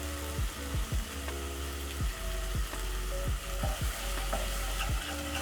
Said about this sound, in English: So I'm going to add tomatoes. I'm using 2 tomatoes. Stir.